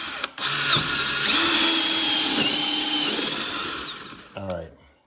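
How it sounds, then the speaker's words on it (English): A power drill with a hole saw bit whines steadily for about four seconds, grinding through a plastic plug in a kitchen cabinet, then winds down with a brief stutter at the end. "I'm gonna take my hole saw bit, and I'm gonna center that right in that hole. I'm gonna drill this down through here."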